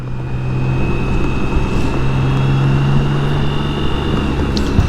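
A BMW K1600 GTL six-cylinder motorcycle running steadily on the road, a smooth sustained engine drone with a faint whine, close and fairly loud with no talking.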